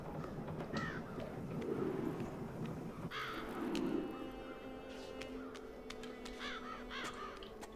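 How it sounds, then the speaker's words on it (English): Crows caw repeatedly in the Child of Light video game, harsh calls in short bursts over a steady ambient game soundscape with background music. "Why is this a whole town of crows?"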